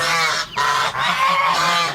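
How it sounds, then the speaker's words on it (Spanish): Chinese geese (Anser cygnoides) give loud, close honks in a quick series of three or four nasal calls, with no voices over them. "sin duda se identificaron como gansos chinos de la especie Anser cygnoides"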